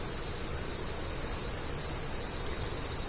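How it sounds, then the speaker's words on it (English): Cicadas sing in a dense, unbroken chorus over mountain terraces beside partly harvested fields, a steady high-pitched drone that holds at an even level throughout with no other sounds standing out. "cicadas filled the air with their nostalgic chorus"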